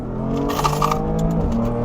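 A heavily modified 2017 BMW M3 Competition accelerates hard out of a corner, its engine roaring loud and close with rising revs and a brief tire chirp.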